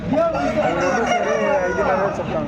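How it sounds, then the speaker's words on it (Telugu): A rooster crows loudly and close at a weekly village market, one long drawn-out call filling the whole moment. "చాలా బాగున్నాయి కోడి పుంజులు"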